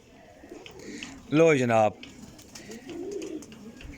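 Prized flying pigeons coo in a close, loud burst of stacked tones lasting about half a second, with someone talking in Punjabi before and after and softer bird sounds continuing under his voice.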